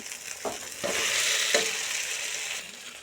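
Fried potato pieces go into a pan of sizzling masala with oil, producing a close, steady sizzle with a few soft stirring scrapes and thumps, no voices.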